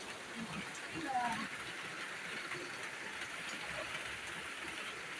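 Steady rain falling outdoors, a continuous soft hiss at low volume, with a faint voice briefly audible under it near the start.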